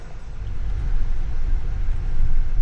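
GMC Sierra 2500 HD heavy-duty pickup on the road, heard from inside as a steady, fairly loud low rumble of road and engine noise that rises slightly over a few seconds, with no talk.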